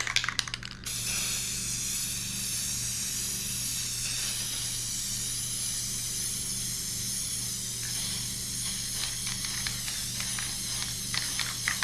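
Spray can laying a gloss coat over a handmade ringed-planet painting, a steady close hiss running unbroken for many seconds, with a few faint taps near the end.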